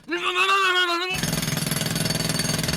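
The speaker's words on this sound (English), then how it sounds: "It wasn't just one person, it was quite a few drills going on at the same time." Several construction drills or jackhammers hammer away together on hotel grounds in Morocco, a dense, loud, rapid pounding that starts abruptly after a brief tonal sound and continues steadily.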